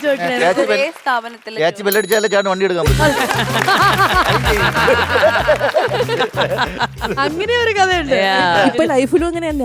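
A short, bright bell rings early on during a stage comedy skit set around a KSRTC bus, with lively talk and chuckling running around and over it.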